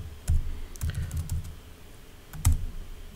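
Keys clatter on a computer keyboard in a short, quiet burst of irregular taps, a few clustered strokes, a pause, then another keystroke near the end, with no talk.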